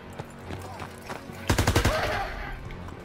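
Gunfire in the D-Day mission of the Call of Duty WWII campaign, a sharp rapid burst of about five loud shots mid-clip amid a rumbling battlefield background.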